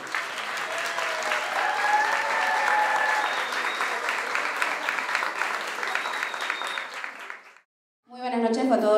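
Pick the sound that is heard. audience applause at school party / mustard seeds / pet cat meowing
audience applause at school party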